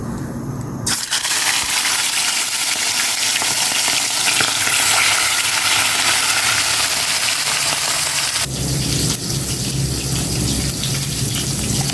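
Cooking oil hot enough to smoke, frying in a pan. A bright, steady sizzle starts abruptly after a second and runs for about seven seconds before cutting off, and there is no talking.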